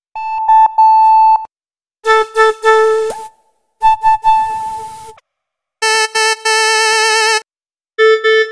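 A bonus telephone sound from a Future House sample pack, played as bursts of bright, beeping synthetic tones in chord-like clusters separated by short silences, loud and alone.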